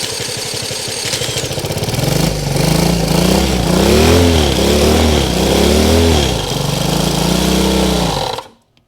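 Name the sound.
motorcycle engine running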